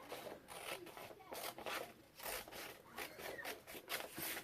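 Scissors cutting out a paper design for a junk journal, with soft repeated snipping and rustling of paper, close and fairly quiet, while a person talks over parts of it.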